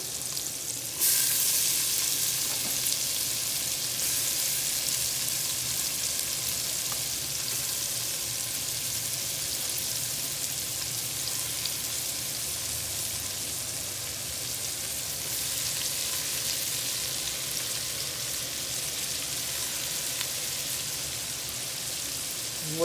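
Vegetables and pancetta brown in a pot for ragu, giving a steady, moderately loud sizzle that runs continuously for over twenty seconds with faint stirring.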